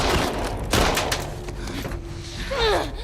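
Gunfire in The Last of Us Part II, loud bursts and thumps mixed with game sounds and effects, with no clear voices.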